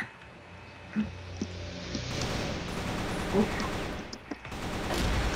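Scattered gunshot bursts from a video game, a few sharp cracks and short volleys over a steady background din, with a voice briefly heard.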